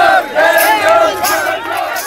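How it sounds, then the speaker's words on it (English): A noisy crowd of fundamentalists shouting abuse as it moves through a Muslim neighborhood in riot-torn Gujarat, India: loud overlapping chanted cries with rising and falling pitch, massed voices filling the whole stretch. "As this noisy crowd passes through a Muslim neighborhood, of riot-torn Gujarat, it hurls abuse and provocation"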